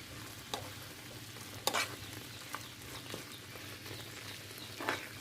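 A spoonful of flour toasting in goose fat in a pan for evelik aşı, a Kars regional dish, heard as a faint, even sizzle broken by a few brief stirring scrapes; no one speaks.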